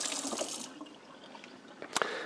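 Fresh cucumbers rinsed under a running kitchen tap: a close, hissing stream of water that fades briefly, then surges back with a splash near the end.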